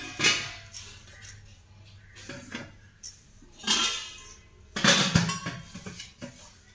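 An old metal idli steamer pot clinks and clatters in scattered bursts as it is handled, with quiet pauses between the knocks.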